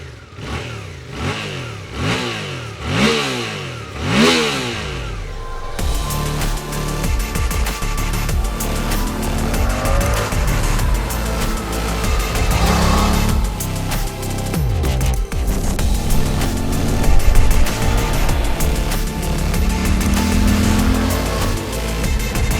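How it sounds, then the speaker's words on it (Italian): A 2024 Suzuki GSX-8R mid-size sport motorcycle engine, heard loud and close: a few sharp throttle blips rise and fall at first, then it settles into a sustained, fluctuating rev with no talking. "vi faccio sentire anche il motore"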